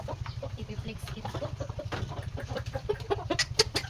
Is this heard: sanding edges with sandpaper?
no